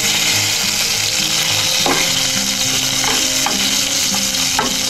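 Garlic sizzles and crackles steadily in hot, smoking oil. The frying is loud and continuous, with occasional sharper spits and scraping stirs and no voices over it.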